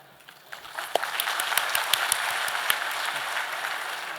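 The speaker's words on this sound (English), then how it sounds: "you guys are supposed to clap for them" An audience applauds at a university talk, with scattered claps building into steady, moderately distant clapping that carries through to the end.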